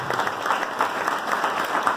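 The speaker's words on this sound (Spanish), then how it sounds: "así que para él pido un fuerte aplauso" An audience at a political meeting claps in a brief, steady burst of applause that sounds dense and even, from a crowd somewhat distant across the room.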